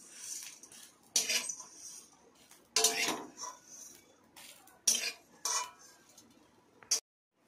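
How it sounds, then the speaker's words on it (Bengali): Metal utensils clink and scrape against a pan as fried whole spices are scooped out with the gas turned off, a series of sharp, close clatters spaced irregularly, with quiet pauses between them. "মশলাগুলো তুলে নিচ্ছি।"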